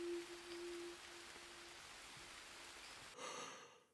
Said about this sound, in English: The rain is so annoying.